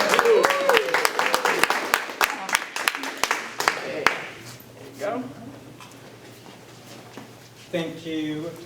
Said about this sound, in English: Please have a big round of applause for Lyndon.